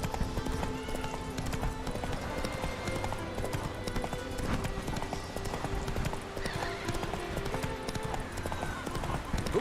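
Horse hooves clip-clop steadily throughout in The Witcher 3, mixed with a whinny and busy game ambience, with a voice briefly speaking over the riding.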